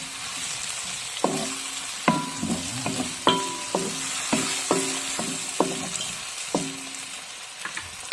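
Tomatoes sautéing in hot oil in a pan, a steady close sizzle broken by repeated metallic clinks and scrapes of a utensil stirring.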